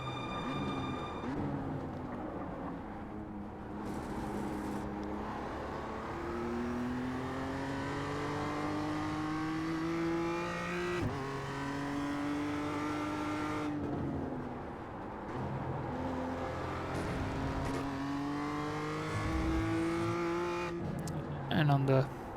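A race car engine revs and shifts through gears on a qualifying lap in a racing game, rising pitch sweeps breaking at each upshift, loud and continuous, with a voice talking over it.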